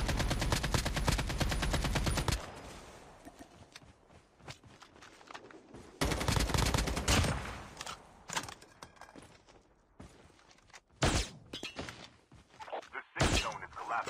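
Gunfire rattles through a Call of Duty Mobile match in heavy bursts of rapid automatic shots, the loudest volleys at the start and middle, separated by quieter stretches of scattered single shots and thuds, with a voice speaking briefly.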